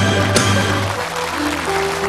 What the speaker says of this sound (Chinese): 谢谢大家热烈的掌声。